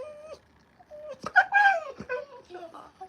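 Dog whimpering at a dog park, a few high, rising whines and yips heard up close under and between people talking to the dog.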